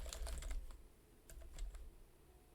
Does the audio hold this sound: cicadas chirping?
no